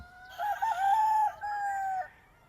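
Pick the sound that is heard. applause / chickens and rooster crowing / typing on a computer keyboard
chickens and rooster crowing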